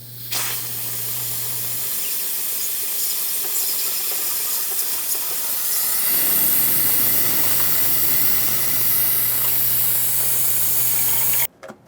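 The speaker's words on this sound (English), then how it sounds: "We use our fluid extraction pump here." A fluid extraction pump draws brake fluid out of the master cylinder reservoir on a 1994-1997 Honda Accord, giving a steady loud hiss with a low hum that runs for about eleven seconds and then cuts off abruptly.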